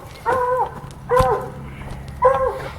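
A pet dog barks three times outdoors on a rural homestead, each bark short and clear with brief gaps between, fairly close.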